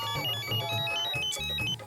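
A phone rings with a looping melodic ringtone in a home, loud and near, running without speech until it fades slightly at the end.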